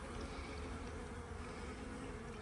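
Robber bees droning around a Paynes poly hive, a dense continuous buzz of many insects up close, steady and unbroken, with no talking.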